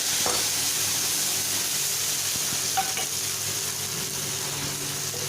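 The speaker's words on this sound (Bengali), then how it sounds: "এবার এই মিশ্রণটাকে মশলাটা এটাতে দিয়ে দেবো" A ground paste of onion, ginger, garlic and green chilli sizzles loudly in a hot pan for an egg and potato curry, giving a steady bright hiss with a few faint stirring clicks and no voices.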